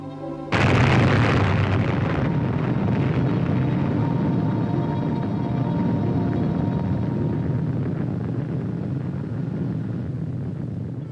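Nuclear detonation in a 1950s film, heard as a sudden heavy boom followed by a long, roaring rumble that slowly fades over several seconds, with no voices.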